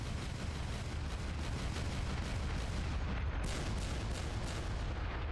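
Heavy spaceship cannons pounding away in a space video game, a continuous booming barrage of rapid blasts, loud and near, with a brief dip in the roar partway through.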